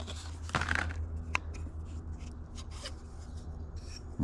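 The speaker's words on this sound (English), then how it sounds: "Get my new scissors open." New serrated scissors being worked open before field dressing a deer, with soft rubbing and scraping, a brief crisp snap near the start and low handling noise throughout, fairly quiet and close.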